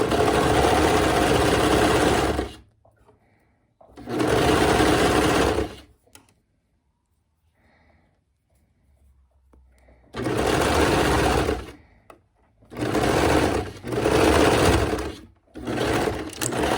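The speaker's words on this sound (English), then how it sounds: "I'm going to put it right sides together and sew up the side seam." A sewing machine stitching a side seam on a dropped waist dress, running in several loud close bursts of rapid whirring separated by quiet pauses.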